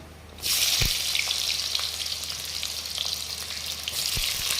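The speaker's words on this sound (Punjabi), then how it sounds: "ਦੋ ਤਿੰਨ ਮਿੰਟ ਦੇ ਕਰੀਬ ਆਪਾਂ ਪਿਆਜ਼ ਨੂੰ ਭੁੰਨ ਲੈਣਾ ਹੈ" Onions frying in hot oil with cumin for a vegetable Maggi set off a loud, dense sizzle that bursts in suddenly and holds steady, with a couple of low utensil knocks and no voices.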